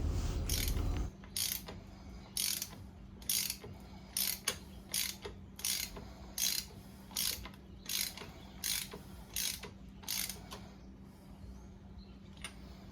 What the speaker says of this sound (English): As you tighten it down with a hand ratchet, the spring compresses and allows more room for the nut to go on.